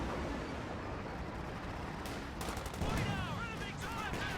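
Artillery barrage gunfire in Company of Heroes 2, with rapid bursts of shots and impacts rising over a steady battle din, heard faintly at a distance.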